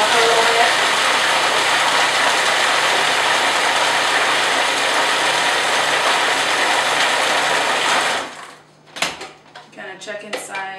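A blender roars loudly and steadily for about eight seconds, then cuts off, followed by a few clunks and handling noises.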